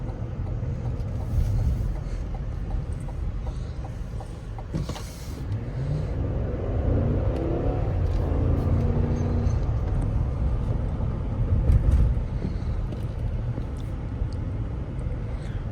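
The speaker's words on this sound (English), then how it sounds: "you get excellent pickup from that V8" Cabin view of a 2022 Cadillac Escalade Luxury Platinum with its V8 pulling hard, a deep steady engine rumble that swells and builds as the vehicle gathers speed, heard from inside with road noise and a brief thump partway through, no talk.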